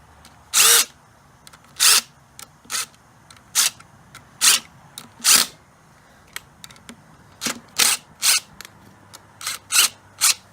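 An impact gun drives in the clutch cover bolts on a dirt bike, firing in a series of short, loud, close bursts with brief gaps between them.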